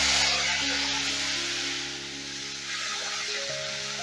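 Ginger and green chilli paste frying in a pan for mung dal balls, a steady close sizzle holding for about four seconds, with faint stirring and no talk.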